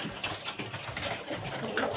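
Pigeons in a loft give soft, faint cooing calls amid quiet background rustle, with no talking.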